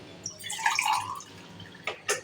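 Water poured into a pot while cooking moong dal mangochiyan: a soft, quiet splashing pour, then two short separate splashes near the end.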